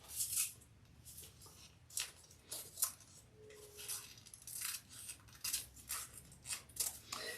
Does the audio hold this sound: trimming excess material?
yes